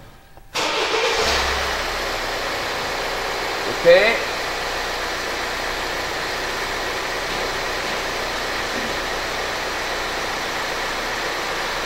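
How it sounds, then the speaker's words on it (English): A Hyundai Santa Fe engine cranks and starts, then settles into a steady idle with a brief rev; a voice speaks briefly. "test condition, engine idling."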